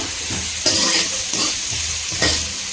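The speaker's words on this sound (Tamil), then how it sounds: "ஆனியன் வந்து வதங்கட்டும்" Onions frying in hot oil with fennel seeds in a pan for a village-style goat intestine gravy, a loud steady sizzle close by, broken by several scraping stirs of a spoon at regular intervals.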